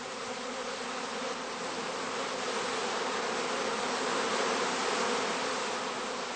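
A swarm of honeybees buzzes around a heather skep at a cast-swarming apiary, a dense, continuous hum that holds steady and close throughout with no voices.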